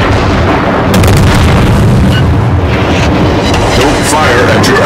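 Naval gunfire and explosions in the warship battle game World of Warships: a loud, dense barrage of booming shots and blasts over a constant heavy rumble, with sharper cracks scattered throughout.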